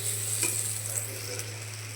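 Tomatoes fry in hot oil in a pan, with a soft continuous sizzle and a faint clink of a utensil, close and steady throughout.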